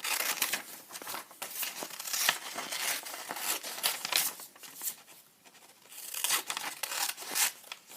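Scissors cut a large rectangle out of paper, giving a continuous run of crisp snipping and crinkling rustles close by, with a brief lull partway through.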